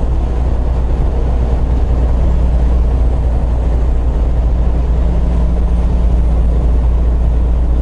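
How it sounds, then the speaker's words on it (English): Semi truck diesel engine running steadily with turbo spooling, a loud constant low rumble and drone heard from inside the cab, no speech. "I love how I hear that turbo spooling"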